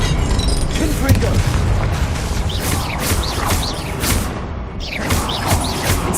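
Confringo blasting spells go off in Hogwarts Legacy combat, loud booms and crashing bursts layered with clattering mechanical and shattering debris sounds, continuous and busy throughout.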